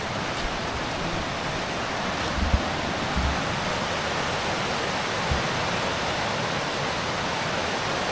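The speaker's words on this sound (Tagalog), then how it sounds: "Lawak din pala ng ilog ano." A steady, broad rush of flowing water from a wide river, constant and fairly loud, with a few faint low bumps and no voices.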